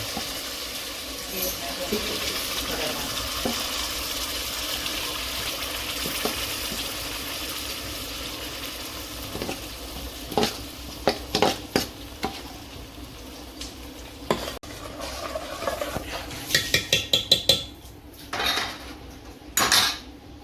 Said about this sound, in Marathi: आता जो आपण वाटण काढलं होतं सगळं, कांदा खोबरा टोमॅटो, तो फ्राय करून घ्या.